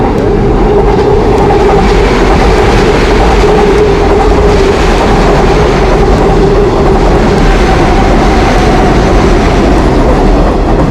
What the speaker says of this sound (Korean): 아, 지금 이렇게 열차가 오고 있네요.